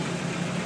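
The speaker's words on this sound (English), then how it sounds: "I don't know if you can hear the engine. It sounds pretty good." A 1976 Chevrolet Corvette engine idling, a steady, even low rumble held close and alone without talk.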